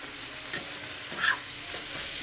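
Quiet stirring of a vegetable curry with grated fresh coconut in a pan, a couple of soft scrapes against a faint sizzle, close and isolated with no talking.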